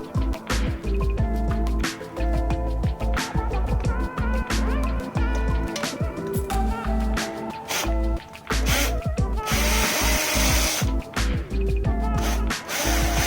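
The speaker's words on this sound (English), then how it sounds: "remove the M6 nut with my drill and extension" Power drill with an extension spinning off an M6 nut on an XT-style bumper bracket, repeated short whirring bursts in close succession, loud and near, with a rougher, denser stretch near the end.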